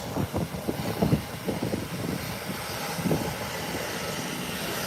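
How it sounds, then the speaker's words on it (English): An Embraer 120 turboprop airliner taxis out toward the runway at Howard Hamilton International Airport, its engines giving a steady, moderately loud drone with a rumbling low end and a few irregular bumps, with no talking over it. "Let's look at the Embraer 120 taxiing out."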